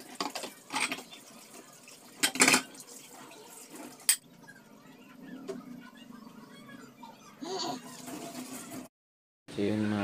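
A kitchen tap runs while dishes are washed at home, water splashing in irregular bursts with sharp clinks of dishware, softer trickling between, and a brief silence near the end before splashing resumes.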